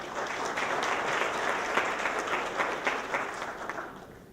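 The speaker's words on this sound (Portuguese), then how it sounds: "Carlos Alberto Chaulin, que recebe o carinho e os aplausos de todos" A congress audience at the ABRAPE event in February 2017 gives a sustained, steady round of applause for an events company director, a dense wash of many hands clapping at moderate distance with no voices on top.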